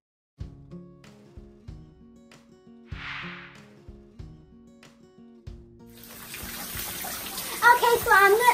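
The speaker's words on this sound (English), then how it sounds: "Okay, so I'm taking a shower now, and I almost slipped." Water from a running shower starts up and keeps going as a steady hiss. It follows a series of knocks and clatters and builds under light background activity.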